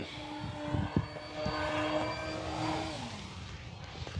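An Arrows Trekker 1.2 m RC airplane cruises at low throttle, its electric motor giving a steady buzzing whine with a clear tone that slides lower, heard outdoors with some wind thumps.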